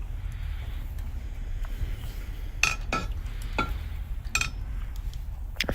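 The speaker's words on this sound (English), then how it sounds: "Just going to give that a good stir." Black Rit dye is stirred in a slow cooker, a low steady churn punctuated by a few sharp clinks of a metal tool against the crock.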